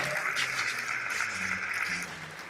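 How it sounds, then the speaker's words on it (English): Audience applause at an awards ceremony, a steady sustained wash of clapping from a crowd that holds even for a couple of seconds and then eases slightly at the end. "Give him a round of applause."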